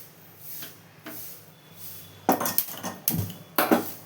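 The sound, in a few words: wok (kadai) being placed on a lit stove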